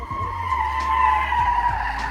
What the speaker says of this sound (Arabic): في واحد تقريبا بيتعلم دريفت، تقريبا هيتعلم دريفت فهيجرب فينا دلوقتي